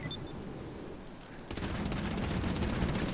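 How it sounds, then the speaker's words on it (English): Gunfire rattles in GTA 5 Online, a muffled stretch giving way to denser, louder rapid shots in the second half, steady and continuous. "Trying to shoot these things up and like get them out of here"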